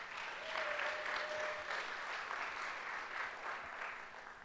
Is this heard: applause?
yes